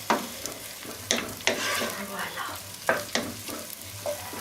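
Onions frying in a little oil for a homemade tomato sauce, a steady soft sizzle broken by repeated sharp scraping stirs, close and moderately loud, with someone briefly speaking.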